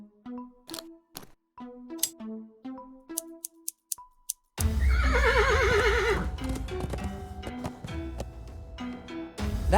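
A horse in the point-and-click adventure game Willy Morgan and the Curse of Bone Town snorts and stamps in short bursts, then lets out a loud, wavering whinny over a busy game soundscape.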